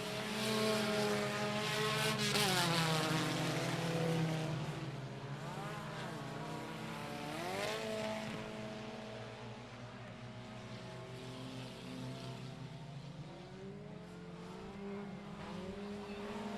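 Race cars at I-37 Speedway roar around the track, their engines whining up and down in pitch as they pass close by, with a steady, loud roar underneath.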